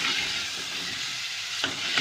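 Potatoes frying in tomato masala in a pan, a steady close sizzle and hiss running throughout with a couple of brief stirring scrapes near the end.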